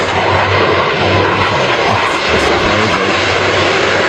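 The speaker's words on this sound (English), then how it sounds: "Can you hear the engines?" Display airplanes flying past overhead at an air show, their engines a loud, steady broadband roar that continues for the whole stretch without pause, with no voices in it.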